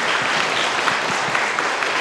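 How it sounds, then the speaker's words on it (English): Steady, even applause from a congregation at a Lutheran chapel service for a pastor, a continuous wash of clapping throughout. "let's give Pastor Growth a round of applause"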